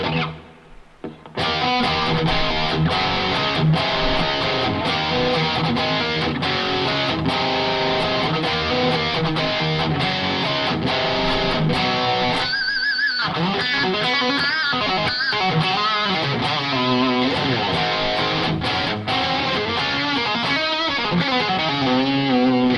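A distorted electric guitar plays a crunchy rhythm part through a Kemper Stage, continuously, loud and close, with chords ringing after a short pause near the start.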